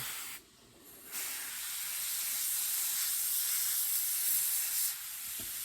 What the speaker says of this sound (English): I'm going to spray it and get the black out until I get the green coming out.